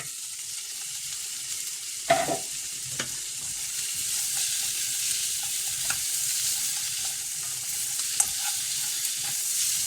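Crab pieces are stirred into a bubbling crab curry in a pan, giving a soft continuous fry-sizzle with a sharp utensil scrape near the start and a few faint clinks later, close and without talk.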